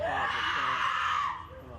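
Screams from family members fill a courthouse after a prison sentence is announced, a loud, sustained wailing cry lasting over a second before fading into background noise.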